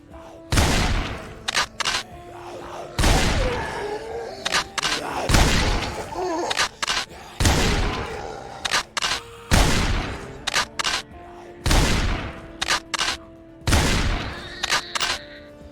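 Shotgun blasts in the zombie survival game Project Zomboid, about seven loud booming shots spaced a second or two apart, each followed by short clicking and racking noises, with no talk.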